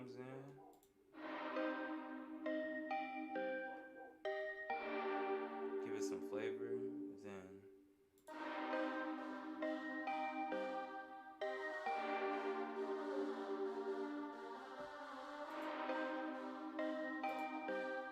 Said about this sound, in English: my bell, my marimba comes in